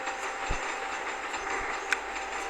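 In the mobile game Train Station 2, a train rumbles along, its wheels clicking faintly over a steady hiss, with a few soft knocks and no talk.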